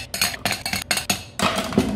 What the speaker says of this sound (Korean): 쉐이커에 얼음을 8개에서 10개 넣어줍니다.